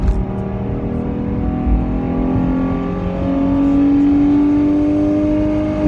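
V6 Dodge Charger with an aftermarket exhaust pulls hard, its engine note droning loud and close as the pitch climbs steadily under sustained acceleration, with no voices over it.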